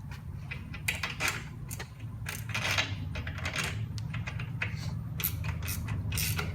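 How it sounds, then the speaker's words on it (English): Wrench tightening the nut on a spindle pin removal tool on a Datsun 240Z/260Z/280Z rear suspension, with repeated metallic clicks and ratcheting scrapes close by over a low steady hum. "We'll tighten this up to where the bearing goes up against the tool."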